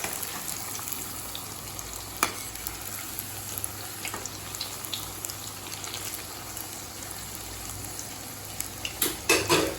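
Potato pieces frying in oil over a low flame, a steady soft sizzle with occasional bubbling and a few utensil clinks near the end, quiet and continuous without talk.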